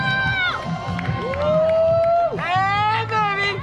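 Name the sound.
spectators cheering runners at race finish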